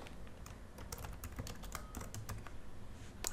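Quick typing on a computer keyboard while entering a name in accounting software, a short burst of close, light key clicks in an uneven patter with no speech.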